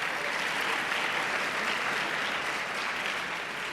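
Steady, dense applause from an audience at a high school speech individual events state finals ceremony, filling the whole stretch at an even level with no talk over it.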